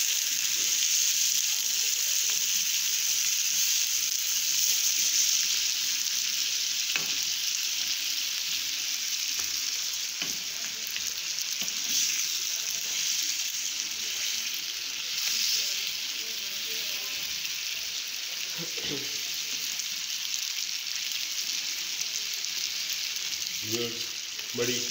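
Charsi karahi, a Peshawar-style dish, sizzles steadily in a wok while being stirred, a loud continuous frying hiss with occasional scraping knocks from the stirring.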